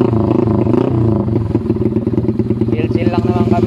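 A Honda XRM 110 motorcycle bored to 130cc with a big valve head revs hard nearby, a loud raspy putter that pulses rapidly and rises, with someone talking over it.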